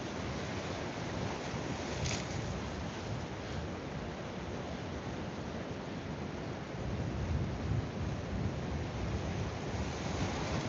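A big sea swell rolls and washes continuously, a dense steady surf roar with low rumbling surges and wind rushing across the microphone, even and close with no one speaking.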